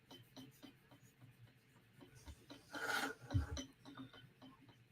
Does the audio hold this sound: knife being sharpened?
yes